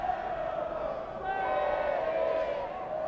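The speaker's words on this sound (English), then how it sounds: "fantastic support from the Orlando City crowd, including the ruckus" Orlando City supporters, including the Ruckus section, chanting and cheering in the stadium at a soccer match against the Charlotte Eagles, a sustained, droning wall of crowd voices that swells slightly partway through.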